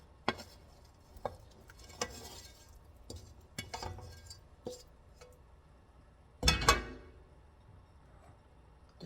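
Jerk cabbage being stirred as shrimp, smoked sausage and bacon go into cooked cabbage: soft scattered clinks and scrapes of a utensil against the pot, quiet overall, with one louder clattering burst near the end.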